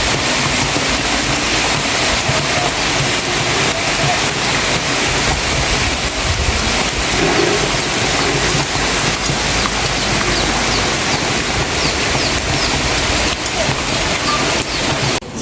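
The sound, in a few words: heavy rain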